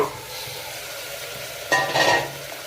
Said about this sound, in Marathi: त्याच्यामध्ये आपण 250 ग्राम मटण टाकणार आहोत